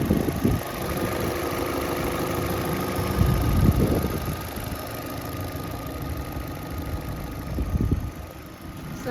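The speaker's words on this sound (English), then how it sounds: "Just warming up the engine to operating temperature" A cheap used Vauxhall car's engine, fresh from a valve cover change, runs at idle while warming up, a close, steady mechanical rumble with a couple of brief surges, no voices.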